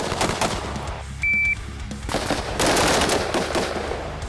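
Gunfire from a pistol and carbine shooting drill: bursts of sharp shots in quick succession, with echoing reports and layered outdoor range noise throughout.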